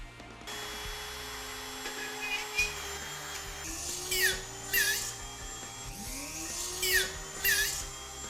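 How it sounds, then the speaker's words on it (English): A small drill boring 1/16 inch holes for wall mount model scenery lights, a whirring motor that rises in pitch as it spins up, with short high bursts as the bit cuts, several times, close and fairly quiet. "After your holes are drilled,"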